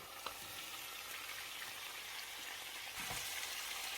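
Diced pumpkin fries in a pan for pumpkin kavurma, a constant close sizzle with a few soft clicks and taps from stirring.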